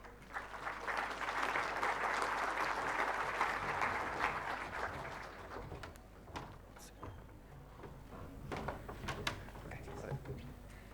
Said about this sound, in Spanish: recibimos con un aplauso a Jorge Luis Picón González